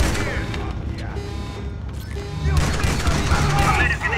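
Close-range weapon fire in a video game, a dense rapid burst of loud gunfire with booming blasts that keeps up throughout, with a voice heard faintly underneath.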